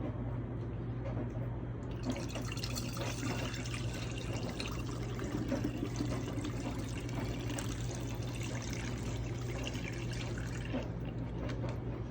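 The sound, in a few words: pouring water into a pot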